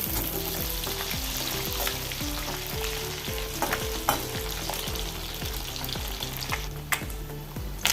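Anchovies sizzle and crackle steadily in hot oil in a pan, with curry leaves nearby, a dense continuous frying hiss punctuated by low rhythmic stirring or turning knocks throughout.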